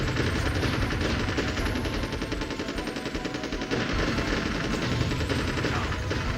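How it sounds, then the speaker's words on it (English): Continuous rapid machine gun fire in the Army Men: Sarge's Heroes video game, dense and unbroken bursts of gunshots running throughout at steady loudness. "getting shot at by machine guns and bazookas"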